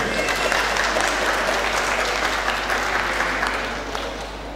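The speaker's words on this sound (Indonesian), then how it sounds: "Tepuk tangan untuk Pak Zainal." Audience clapping at an official regional government speech, a sustained dense round of applause from a seated crowd over a steady low hum, tapering slightly as it ends.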